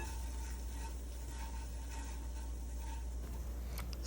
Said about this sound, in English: you have to have that butter melted and, at least sizzling